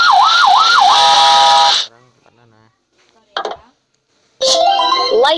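A police car in a kids' car-building video game gives off a loud wailing, up-and-down electronic siren, which cuts off, then returns after some quiet with brief voice-like cartoon noises.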